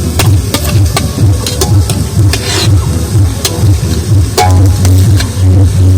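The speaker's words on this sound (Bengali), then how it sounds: "আমরা সেই একটু এইভাবে নাড়িয়ে নাড়িয়ে যে চালের গায়ে জলটা আছে সেটা শুকনো করবো।" Wet rice for puffed rice being stirred in a pan to dry it, a fast rhythmic scraping and rustling that repeats close and loud with a faint sizzle underneath.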